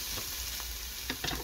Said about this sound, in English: I'm gonna cook them up with some oil.